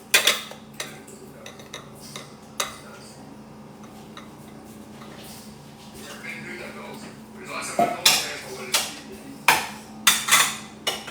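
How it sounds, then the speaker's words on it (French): Dishes being washed by hand at a sink, with sharp clinks of cutlery and plates striking each other in scattered bursts, busier toward the end, over a low background hum. "là, je suis à ma vaisselle"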